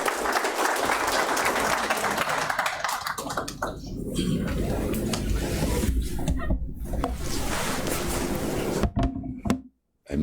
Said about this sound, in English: resounding round of applause.